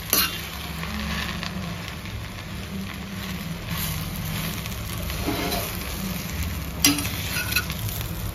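Gongura leaves cooking in a pan for pickle, a soft continuous sizzle and frying hiss with occasional stirring scrapes and a clink near the end.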